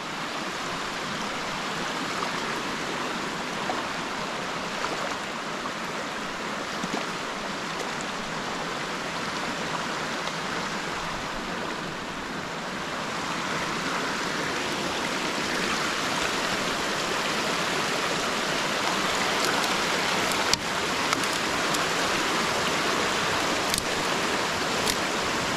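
Water pouring over and below a beaver dam, a dense, continuous rushing hiss of flowing stream that holds steady and grows slightly louder midway, close by and with no voices.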